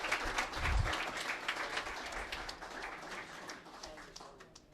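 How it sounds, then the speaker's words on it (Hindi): Applause for an honoree at an awards ceremony in Aurangabad, a dense spread of many hands clapping at moderate distance, steady for several seconds and slowly thinning, with faint voices mixed in. "आप जोरदार तालियों से नोमान साहब का इस्तकबाल करें।"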